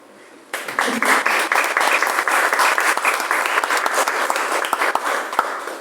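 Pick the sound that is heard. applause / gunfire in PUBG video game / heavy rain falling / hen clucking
applause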